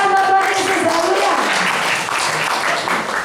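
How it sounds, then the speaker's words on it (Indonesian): A church congregation bursts into steady, dense applause in praise of Jesus, rising as a voice fades out at the start and then filling the room evenly to the end. "Beri tepuk tangan buat Tuhan Yesus"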